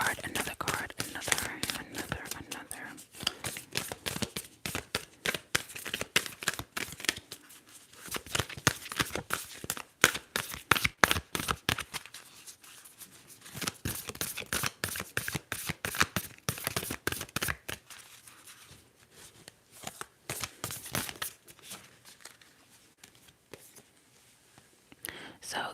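Tarot cards shuffled close to the mic in rapid riffling flutters and soft slaps, repeating in bursts with brief pauses, while a quiet whispering voice runs underneath.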